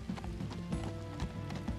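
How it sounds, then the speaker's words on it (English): Horses of a caravan trot in Minecraft Story Mode, a steady rhythmic clip-clop of hooves over a low background hum. "Here goes our caravan of horses."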